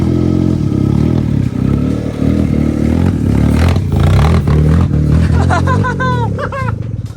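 A budget £1000 rally car engine runs loudly and revs up repeatedly, with clatter and scraping around it and a few voices speaking briefly over the engine near the end.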